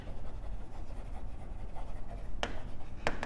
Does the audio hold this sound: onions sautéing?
no